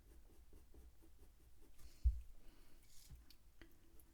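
A pencil colouring a fox drawing on paper with light pressure gives soft, rhythmic scratchy strokes, close and quiet, with a brief thump partway through.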